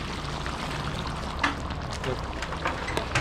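Hot salted water pours into a large pot for Russian plov, a faint, continuous splashing trickle with small clinks and bubbling accents.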